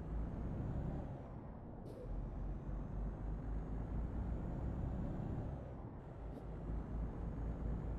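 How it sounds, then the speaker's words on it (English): Truck engine and driving noise from Euro Truck Simulator 2, a steady loud rumble with two brief high hissing bursts like air brakes releasing, at about two and six seconds. "I love the fact that you can hear the sound of like the gears changing and the air brakes going off every time."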